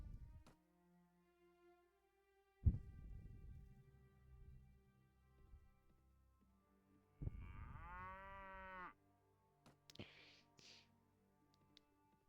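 Cattle bought in the medieval video game Mount and Blade Warband give a few separate, fairly close moos, with quiet gaps, soft thuds and short clicks in between.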